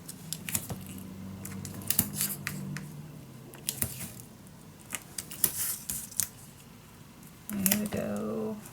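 Scissors snip and slice through paper in a quiet craft session, a run of crisp, close cuts with brief scoring sounds between them, with soft talk near the end.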